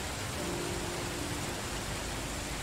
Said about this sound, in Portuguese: Está chovendo demais aí fora.